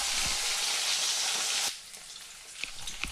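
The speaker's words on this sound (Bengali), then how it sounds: "তেল গরম হয়ে গিয়েছে, এবার আমি মাছ ভেজে নেব।" Khoyra fish frying in hot oil, a loud steady sizzle for about a second and a half that drops suddenly to a faint crackle with a few soft pops.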